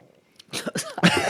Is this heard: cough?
yes